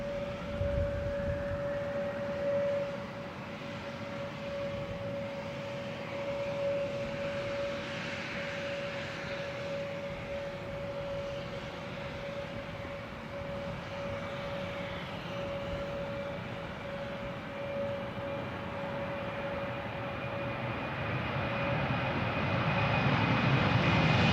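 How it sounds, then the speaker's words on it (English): A Qantas 172 airliner takes off from Wellington Airport on a windy, gusty day, its jet engines giving a broad, rising roar with a steady high whine, distant at first and growing louder toward the end. "Qantas 172 all lined up, ready to head off back across the ditch to Melbourne"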